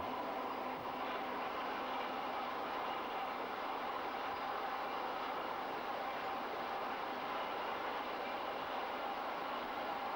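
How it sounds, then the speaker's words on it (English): A Sandringham-bound suburban electric train runs in the middle of the day, a steady broadband rumble and rattle from aboard the carriage, continuous and close with no voices. "Aboard a Sandringham-bound train, in the middle of the day"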